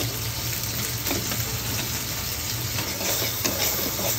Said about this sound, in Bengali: ভালো করে হলুদ মরিচ মশলাগুলোকে কষিয়ে নিলাম